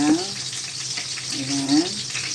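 Garlic dropped into hot oil in a pan for a mung bean dish, giving a steady, close sizzle and crackle that runs throughout while someone talks over it.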